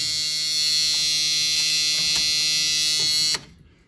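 A dash warning buzzer in a second-generation Pontiac Firebird drones steadily and harshly for a few seconds at close range, then cuts off abruptly.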